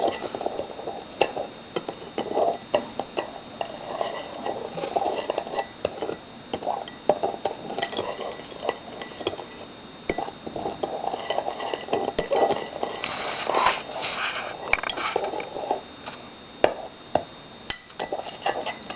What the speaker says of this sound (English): Now we're going to mix it all together.